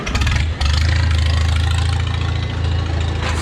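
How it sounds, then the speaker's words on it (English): A farm tractor engine turns over and catches, then settles into a loud, steady low rumbling idle close by. "So start the tractor"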